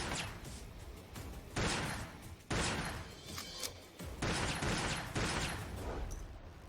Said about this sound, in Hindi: स्नाइपर है।